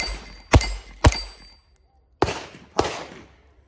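A .22 rifle fired at a shooting range, four sharp, fairly light cracks in two pairs with short gaps between, each followed by a brief ringing decay.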